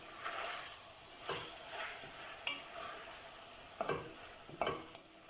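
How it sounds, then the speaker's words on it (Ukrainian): Carrots stewing in a pan with softened onion while being stirred. Soft scrapes and a faint, quiet sizzle come in irregular strokes. "Перемішуємо і тушимо до м'якості моркви."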